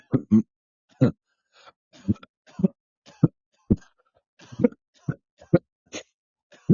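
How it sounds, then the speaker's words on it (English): A run of sharp, harsh coughs and throat-clearing bursts in irregular succession, close and loud, with brief gasping pauses between them. "here I go, coughing and choking"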